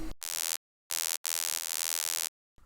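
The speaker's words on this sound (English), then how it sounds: "the Fuzz Layer is essentially a square layer with the high end pushed" A square-wave fuzz layer synth for jump-up drum and bass plays in three bright, buzzy sustained bursts with hard cutoffs and silence between, a dense harmonic drone alone in the mix.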